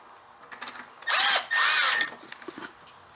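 A power tool, likely a drill or driver, snugs down bolts on an engine part sealed with an O-ring, in two loud bursts of about half a second each, with faint clicks before and after.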